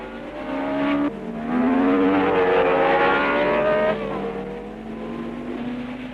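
1962 Formula One cars, Graham Hill's BRM among them, race at the Rouen-Les-Essarts circuit in France, engines loud and near, wailing up through the gears with pitch shifts as they pass.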